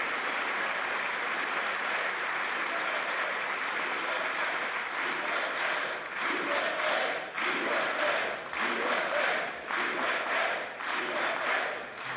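A US Congress audience applauds Israel's prime minister Netanyahu in a sustained wave of clapping from a large crowd, growing fuller and more ragged in the second half with bursts of cheering and voices mixed in.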